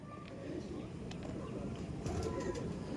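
Chotiyal pigeons in a loft give soft, muffled coos, faint against a steady background hum, with a few sharp clicks near the end.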